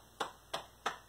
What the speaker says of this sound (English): Can you make your hands clap?